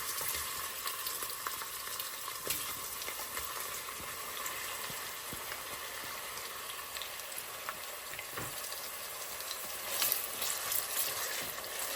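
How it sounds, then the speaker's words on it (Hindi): Three medium onions frying in cooking oil for homemade haleem, a continuous soft crackling sizzle with occasional spoon scrapes and faint clinks, steady and fairly quiet throughout. "कुकिंग ऑयल डालेंगे यहाँ पर। और इसके बाद ये देखिए, ये इस प्याज डाल दूँगी सारे में।"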